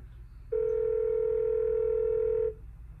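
A steady telephone dial tone sounds as a call is placed, a single clean continuous tone lasting about two seconds, clear and close over a low background hum.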